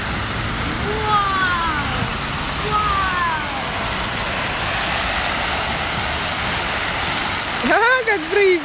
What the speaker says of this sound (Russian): Ага, как брызжет, да? Ага, брызгает прям фонтаном.